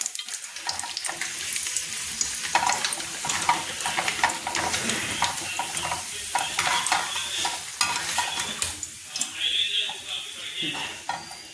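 Frying in a little oil in a pan for dal tadka, a steady loud sizzle with constant stirring scrapes and occasional clinks of utensil against pan.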